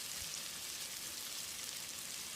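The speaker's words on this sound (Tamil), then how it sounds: "வெங்காயத்தை நல்லா செவந்து வர்ற அளவுக்கு வதக்கிடலாம்" Chopped shallots with cinnamon, cloves and cardamom frying in hot oil for a country chicken curry, giving a steady, soft sizzling hiss throughout with no voices.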